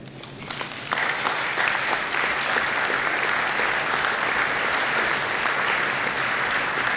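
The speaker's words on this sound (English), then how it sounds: "I want you to start clapping. But I want you to clap in unison." A crowd claps loudly and steadily, many hands at once, starting after a brief quieter moment and continuing without pause; the claps blur together rather than keeping strict time.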